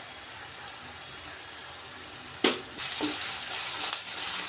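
Oil sizzles steadily in a pan as green chillies fry, with a sharp burst of crackling midway that settles into a continuous hiss.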